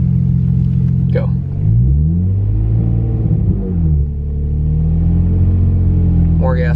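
A Nissan Nismo 350Z engine rumbles loudly from inside the car as it pulls away in first gear on a salty road, with the rpm rising, dipping and climbing again while voices talk over it.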